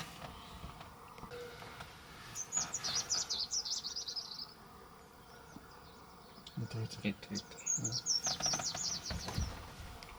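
Two bursts of high, rapid chirping from two different bird species in Tarangire National Park, Tanzania, a few seconds apart, with low background murmur and faint voices in between.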